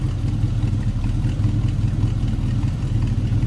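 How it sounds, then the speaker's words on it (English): A 1940 Ford Deluxe Coupe street rod with a mild cam and a modest exhaust idles steadily, its low rumble loud and even throughout with a faint lumpy lope and no talking. "It's a nice sounding car. A little bit of a cam to it. Nothing crazy on the exhaust side of things."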